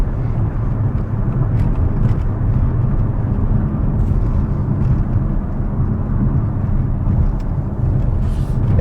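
A 2024 Dodge Hornet R/T pulling away hard in sport mode, its engine and road roar forming a loud, steady wash from a cabin-level vantage throughout, with no talking.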